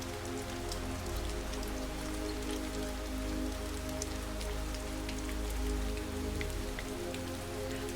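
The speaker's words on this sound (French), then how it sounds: "Écoutez cette pluie qui tombe, régulière, tranquille." Steady, soft rain patters on a surface in an even, continuous wash, faint and calm with a low background hum and no voices.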